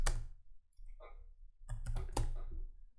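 A few sharp keystrokes on a computer keyboard while typing a command, close and crisp, in short clusters separated by near-silent pauses.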